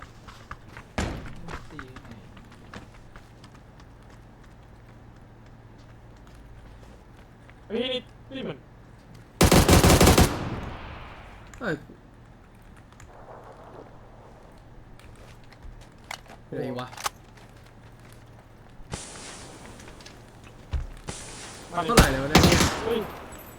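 Bursts of gunfire in the battle royale game PUBG, with short rapid volleys and single shots spread irregularly through the stretch, one loud close burst and explosion-like blasts, while players talk excitedly over voice chat.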